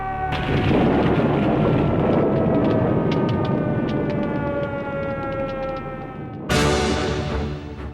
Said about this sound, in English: And right there, we heard the air raid sirens.